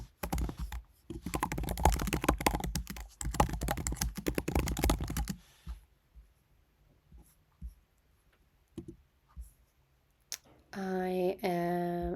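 An assignment name is typed on a computer keyboard in a burst of rapid, close key clicks, followed by a few scattered taps, with a brief spoken bit near the end.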